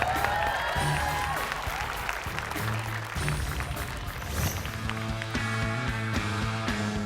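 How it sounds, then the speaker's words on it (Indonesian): Studio audience applause for a contestant on a television show, fairly loud and continuous, mixed with music and tonal accents throughout. "berikan tepuk tangan untuk Dimas"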